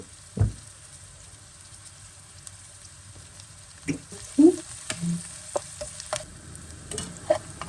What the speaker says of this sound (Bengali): পেঁয়াজটা হালকা ব্রাউন কালার হয়ে যাওয়ার আগ পর্যন্ত ভেজে নেব